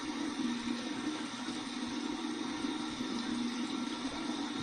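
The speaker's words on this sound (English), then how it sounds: "I'm just going to run this under some cold water and just take the tip." Cold tap water runs steadily over the tip of a styptic pencil at a bathroom sink during a safety razor shave, a continuous close hiss and rumble with no talk.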